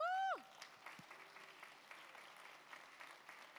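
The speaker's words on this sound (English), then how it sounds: "let's give an applause to our all-women panel" An audience at a Berlin hackathon applauds the judges panel: a brief whooping cheer opens, then soft, distant, scattered clapping continues throughout.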